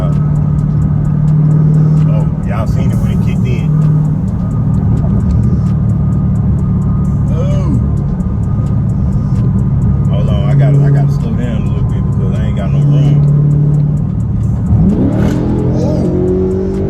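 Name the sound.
modded Dodge Charger widebody engine accelerating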